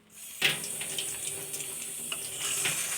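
A bathroom tap is suddenly turned on and runs steadily at close range while an item is washed under it, the splashing shifting slightly as it moves in the stream.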